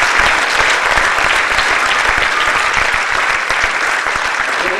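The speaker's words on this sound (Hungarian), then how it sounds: "Köszönjük szépen a tapsokat" A theatre audience applauds steadily and loudly after a performance, a thick, even wash of many hands clapping that holds without letup for several seconds.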